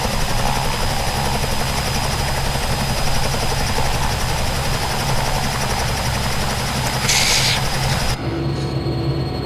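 A Robinson R66 turbine helicopter engine idles before shutdown, a loud, close, steady whine and rumble with rotor beat that suddenly drops off near the end.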